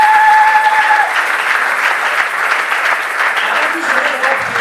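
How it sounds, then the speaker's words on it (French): An audience at a church book launch for a prophet breaks into loud, continuous applause with cheering, sustained and close, while a voice is heard briefly at the very start. "Est-ce qu'on peut acclamer pour l'homme de Dieu?"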